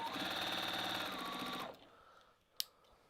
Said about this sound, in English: I'm going to stitch away from it a bit